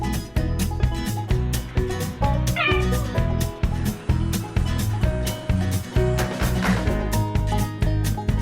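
A cat meows among pulsing loud music from a funny animal compilation, with a few brief mews standing out over the rhythmic beat.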